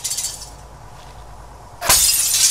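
Glass windows shattering after being struck with a rifle stock in a video game, a loud sudden crash near the end following quieter game ambience.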